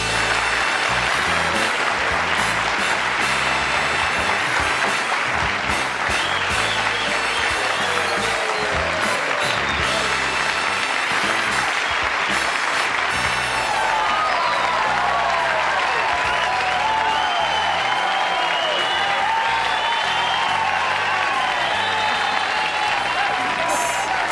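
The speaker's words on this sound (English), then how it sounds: "I'm humbled by that applause." A studio audience at a late-night television talk show breaks into long, loud applause that holds dense and steady for the whole stretch, with band music faintly mixed in beneath it partway through.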